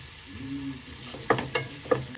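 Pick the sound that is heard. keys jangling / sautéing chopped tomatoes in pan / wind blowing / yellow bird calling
sautéing chopped tomatoes in pan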